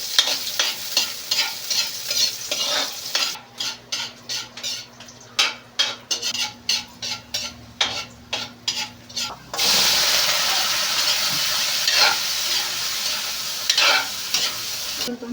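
Onion and garlic stir-frying in a pan for chopsuey, with a spatula scraping in a run of quick strokes and then a steady sizzle at close range, loud and without talk.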